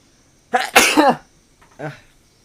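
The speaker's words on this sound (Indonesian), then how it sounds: "sorry, mau bersin dulu ya." A person sneezes loudly and close up in a sharp double burst, followed by a smaller sniff or breath, in an otherwise quiet indoor setting.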